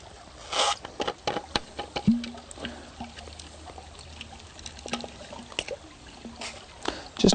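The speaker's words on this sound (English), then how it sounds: "Then what we need to do is pour the solution into our water bottle" A few drops of water-treatment solution are poured into a water bottle, giving short trickles and scattered drips with light taps, close and fairly quiet.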